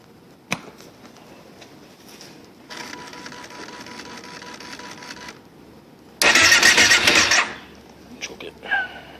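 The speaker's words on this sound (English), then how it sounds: "Just want to do a little cold start in the Prairie 650." Kawasaki Prairie 650 ATV cold-started after sitting unused for a while: a steady mechanical whir, then a loud, rough burst of cranking and engine noise lasting about a second, with a few clicks afterward.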